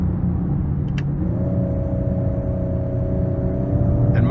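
Inside a 2019 Ford Edge ST with a 2.7-litre turbo engine accelerating in sport mode, a low cabin rumble carries a steady engine hum that rises in pitch early on and then holds.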